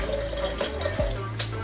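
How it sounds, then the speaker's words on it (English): Boiling water is poured into a container for ginger honey syrup, a soft running trickle with small splashes and gurgles, close by and fairly quiet against a low background hum. "Finally, we're going to add 75 grams of boiling water."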